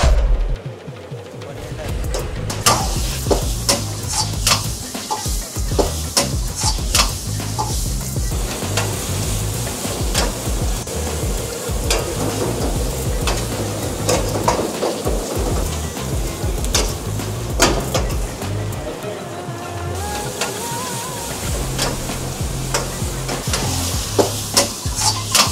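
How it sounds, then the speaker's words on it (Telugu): Paneer and bitter gourd pakoda deep-fry in a Telugu restaurant kitchen with a loud, continuous oil sizzle, dotted with sharp clatters and stirring noises. "कैसे करता है ये पनीर काकरकाय फ्राई पकोड़ा?"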